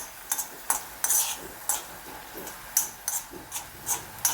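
Aval (beaten rice) roasting in a pan, stirred in sharp scraping strokes that come in an uneven rhythm about twice a second over a light background sizzle, close and clear.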